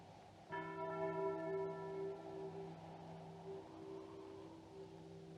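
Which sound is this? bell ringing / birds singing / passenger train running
bell ringing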